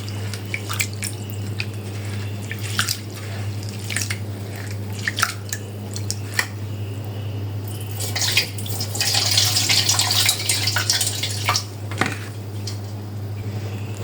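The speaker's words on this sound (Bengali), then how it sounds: "সাবুদানাগুলো ভালো করে ধুয়ে নিব" Sago pearls are rinsed by hand in a pot of water, giving irregular sloshing, dripping and squishing sounds that grow busier partway through, close up and with no talking.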